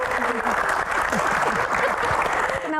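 A talk-show audience applauds as a panelist named Coach Tom is introduced, with a steady wash of clapping throughout and a voice speaking over it.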